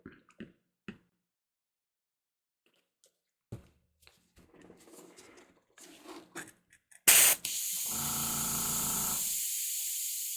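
An airbrush sprays primer through its nozzle to clean it between coats on miniatures. Scattered soft clicks and rustles come first, then a sharp burst and a steady loud hiss that runs for a few seconds.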